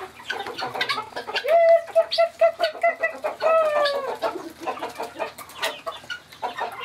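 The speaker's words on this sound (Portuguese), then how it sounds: "Olha lá a outra galinha da Angola chegando." Guinea fowl on a rural smallholding call in a rapid series of harsh, rhythmic clucking cries, close and loud, repeating in bursts across the whole stretch.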